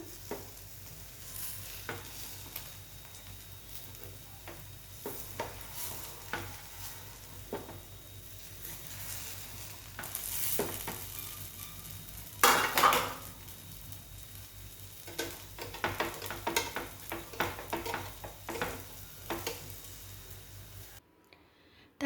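Jini dosa sizzling in oil on a pan, a steady crackling fry with spatula scrapes and stirring sounds throughout and a brief louder burst midway, close and continuous.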